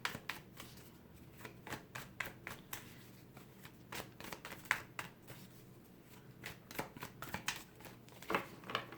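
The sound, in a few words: shuffling an A.E. Waite tarot deck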